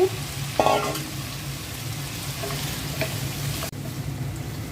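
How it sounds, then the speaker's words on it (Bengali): Bottle gourd and shrimp being stir-fried in a pan, a steady sizzle with scraping stirs and a sharp clatter near the start, close and continuous without talk. "লাউ আর চিংড়ি মাছটা কিছুক্ষণ কষিয়ে নিলাম"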